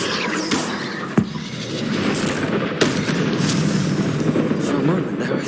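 Confringo blasting spell from Hogwarts Legacy, loud booming explosions with sharp cracks at intervals over a dense rumbling roar of battle.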